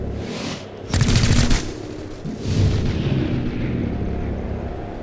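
Gunfire in the video game XCOM: Chimera Squad comes as a loud rapid burst of automatic shots followed by a second heavy blast with a rumbling tail, with no talk over it.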